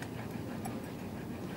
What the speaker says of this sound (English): It's another wolfhound. It's a nice, beautiful dog.